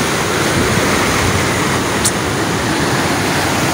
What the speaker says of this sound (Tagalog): Malakas yung alon. Grabe yung lakas ng alon.